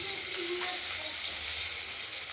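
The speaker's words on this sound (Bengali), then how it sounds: "নুন হলুদ মাখিয়ে কড়াইতে ভেজে নেব" Katla fish pieces rubbed with salt and turmeric fry in a wok, giving a loud, even, continuous close hiss of hot oil with no breaks.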